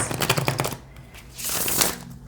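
A deck of cards is riffled and shuffled up close, a quick burst of flicking snaps followed by a softer sliding riffle, loud and alone.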